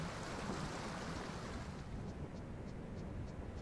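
Rushing waterfall in the video game Tunic, a constant broad roar of falling water that holds steady and fairly loud for the whole stretch, with a few faint ticks toward the end and no talking.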